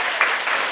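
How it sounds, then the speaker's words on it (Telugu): A church congregation claps in praise of God, a brief burst of dense, steady applause from many hands filling the room. "చప్పట్లు కొట్టి దేవుని స్తుతిద్దాం"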